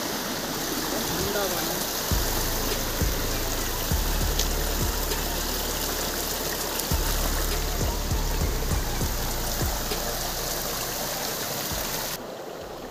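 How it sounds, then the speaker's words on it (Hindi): A small mountain waterfall on a trek near Rishikesh and Dehradun rushes in a steady, dense broadband wash, with several low thumps and brief rumbles breaking through the flow. "यहाँ पे हमें एक छोटा सा वाटरफॉल देखने को मिला जो कि काफ़ी ज़्यादा मस्त लग रहा है"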